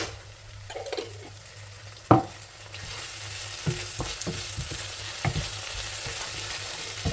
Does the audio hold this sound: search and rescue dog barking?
no